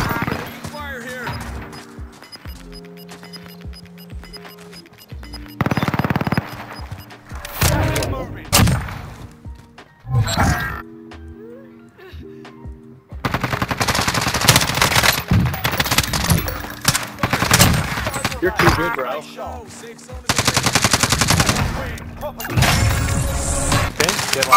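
Gunfire in a shooter video game: loud bursts of rapid automatic fire and single sharp shots in irregular clusters, separated by quieter gaps, with a voice talking over parts of the action.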